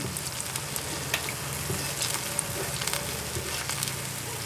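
Fried apple pies with a thin crust and precooked apple filling sizzle steadily in a pan, a constant close crackle with small pops scattered throughout.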